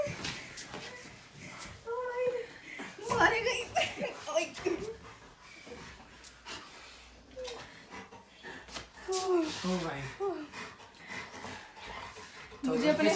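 A dog whimpers and gives short yelps in bursts, close by, while people talk over it.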